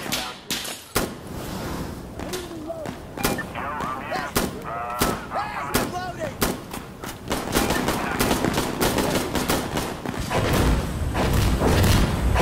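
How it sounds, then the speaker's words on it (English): An artillery strike in Insurgency: Sandstorm lands as a rapid string of sharp, heavy thuds and booms, close and loud, with a low rumble building toward the end. "After this strafe, I'm gonna call in a fucking artillery."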